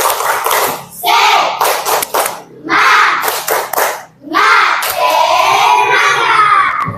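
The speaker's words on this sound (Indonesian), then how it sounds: "Pak Guru tepuk semangat dulu. Tepuk semangat." Children in a school lesson chant and clap together in a rhythmic group cheer, loud and close, with bursts of shouted voices separated by brief pauses.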